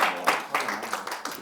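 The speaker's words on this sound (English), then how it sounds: "I would say a big round of applause for the 3." Conference session audience breaking into applause, a dense, moderately loud spread of clapping throughout, with some voices mixed in.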